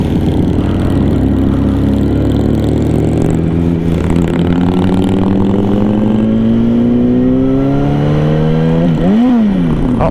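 A 2008 Yamaha R1 1000cc sport motorcycle engine roars loud and close, its pitch climbing smoothly and steadily under a light throttle, then briefly dipping and surging again near the end, with no talking.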